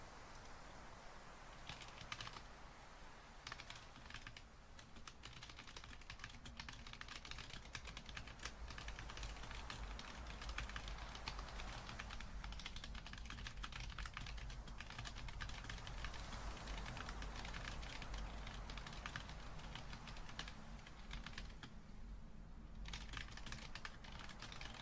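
Continuous typing on a computer keyboard, a steady patter of close keystrokes running throughout with no voices.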